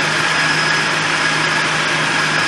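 A Nissan VG33E V6 engine runs loud and steady, a constant whirring drone with a faint high whine and no change in pace, with no voices.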